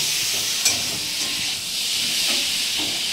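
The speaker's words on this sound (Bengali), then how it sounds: "রান্না হচ্ছে" A pan of fish curry cooking with ash gourd and coconut, giving a steady close hiss and simmering sizzle with a soft clink of a utensil, with no voices.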